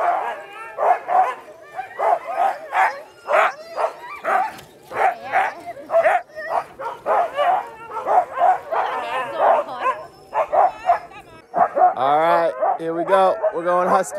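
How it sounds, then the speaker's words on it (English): A team of husky sled dogs by a frozen lake near Rovaniemi, Lapland, at minus 22 degrees, barks and yips in a loud, close, rapid chorus throughout, ending in excited whining, howl-like cries. "we're with the Husky dogs."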